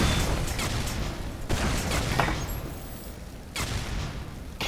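Toilet gun firing and smashing objects in the video game Aperture Desk Job, loud bursts of rapid shots and crashing debris in several volleys separated by brief pauses.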